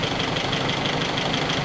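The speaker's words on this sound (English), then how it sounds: "if we turn this, you can hear the engine note gets worse" A 1961 Triumph TR3A engine idles unevenly, with a rough, knocking low rumble and a continuous hissy mechanical drone.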